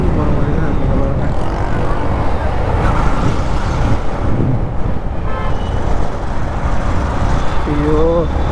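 A Yamaha MT15 V2 motorcycle rides through heavy traffic with a loud, constant rush of engine and wind noise, surrounding vehicles and a short horn toot near the end, while someone talks over it.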